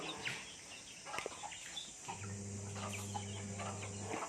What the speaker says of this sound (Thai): เราก็เคาะให้ไก่กินได้ปกติ